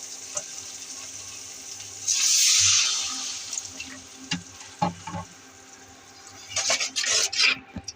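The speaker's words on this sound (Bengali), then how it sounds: "পেঁয়াজ এগুলো সব ভাজা হয়েছে, একটু পানি দেব" Water poured into a pan of fried onion, ginger and green chili paste while making bitter gourd fry, a brief broad hiss around the middle followed by scattered clinks and stirring scrapes, with sizzling bursts near the end.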